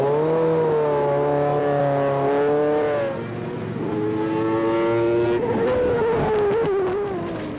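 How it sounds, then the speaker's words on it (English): A racing car on a track brakes late and then accelerates hard, its engine pitch rising and falling in steady sweeps. It sounds close and loud, with a shift to a gruffer note as the car pulls away near the end. "This racing driver is attempting to shave 1/100th of a second off each lap by braking at the last possible moment and accelerating to maximum speed"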